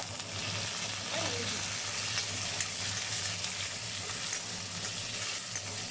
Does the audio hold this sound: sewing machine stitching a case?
no